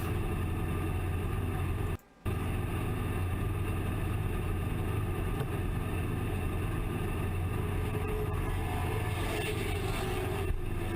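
Race car engine on a qualifying lap at Hickory, a steady droning roar with harmonic bands that runs for the whole stretch, broken once by a brief dropout, no talk.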